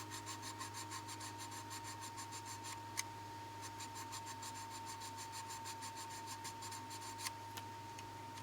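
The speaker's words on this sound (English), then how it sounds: "I just want to try to sand this off a little bit here" A plastic model hull of a Land Raider Spartan is sanded by hand in quick, regular rasping strokes, faint and close, with a couple of small taps between strokes.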